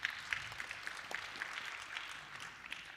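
Scattered clapping from a conference audience at a rail industry panel, fairly faint and distant, with a steady patter of hands spreading across the room.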